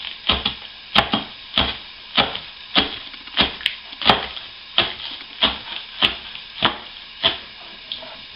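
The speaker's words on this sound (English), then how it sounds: "cut your stuff up, cut your onions up like that" Onions get chopped with a knife on a wooden board in a home kitchen, about twenty sharp, close knocks coming at a steady, unhurried pace with no voices.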